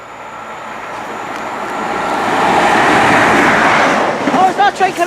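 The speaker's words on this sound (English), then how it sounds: "13:26 pass from London Paddington to Penzance." Passenger train on the 13:26 London Paddington to Penzance service passing through Bruton station, a rising rumble that swells to a loud roar midway and then eases, with a two-tone horn sounding near the end.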